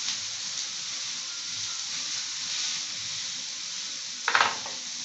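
Yakisoba noodles sizzling and frying on a hot griddle, a steady soft hiss throughout with a brief louder scrape or stir near the end.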